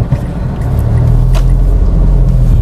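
Inside a Mitsubishi Mirage driving over a macadam road: a steady low rumble of tyres and engine, loud and continuous.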